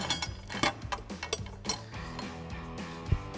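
A ratchet snugs down bolts on running boards for a 2022-2024 Toyota Tundra, giving quick bursts of clicking pawl ratcheting with metallic clinks, close and fairly quiet.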